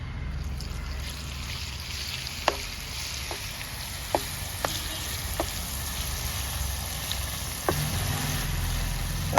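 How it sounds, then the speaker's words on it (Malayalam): Tuna fish frying in hot oil for a spicy pickle, a steady close sizzle with a few sharp pops and crackles throughout. "എണ്ണ ഇളച്ചിട്ടുണ്ട് നമുക്ക് മീൻ ഇട്ട് കൊടുക്കാം"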